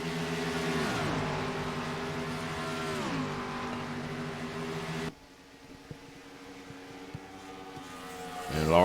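Race cars on the final lap at Kansas Motor Speedway, their engine drone rising and falling in pitch as they pass, loud at first, then dropping to a fainter, distant hum before swelling again.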